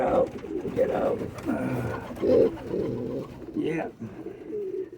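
Pigeons at a pigeon show coo repeatedly in low, throaty bursts, close and fairly loud, while a person speaks briefly over them.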